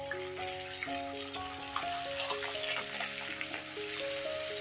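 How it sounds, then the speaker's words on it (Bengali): Fish heads fry lightly in oil with a steady, close sizzle under a tonal musical background, without speech. "মুড়োগুলোকে আমি হালকা করে ভেজে নেব, বেশি কড়া করে ভাজবো না"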